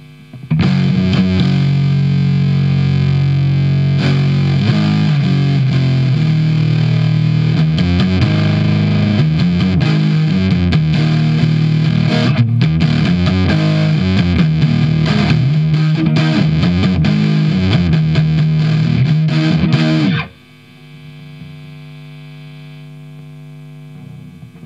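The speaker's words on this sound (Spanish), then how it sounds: "Entonces ahí está funcionando como una distorsión en realidad. Le vamos a poner toda la potencia." An electric guitar runs through a BOSS OS-2 OverDrive/Distortion pedal at full gain, giving a loud, sustained, heavily distorted tone with steady chords and picked notes for about twenty seconds. It then drops to a faint amp hum.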